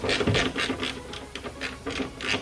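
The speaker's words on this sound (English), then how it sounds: "it digs its blades into the bolt so that you start actually wrenching on the bolt itself" Bolt extractor socket biting into and wrenching out a stripped bolt on a MKIV Supra, a rhythmic series of metallic ratcheting clicks repeating at a steady pace, close and moderately loud.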